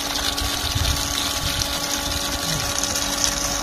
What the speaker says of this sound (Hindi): पानी चालू हो गया और पंप लग गया है।